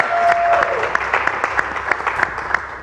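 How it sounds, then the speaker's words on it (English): Gameshow audience applauding for a contestant in a youth quiz segment, a brief burst of clapping with distinct hand claps standing out, while a voice speaks over the top. "That's another applause for me."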